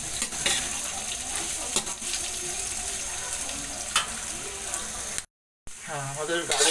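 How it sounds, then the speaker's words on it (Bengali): Carrots and other vegetables fry in a pan with a steady, close hiss of sizzling oil and occasional stirring, cut by a brief silence before the sizzle resumes. "নেড়ে ছেড়ে এগুলোকে একটু আমি ভাজা ভাজা করে নেব"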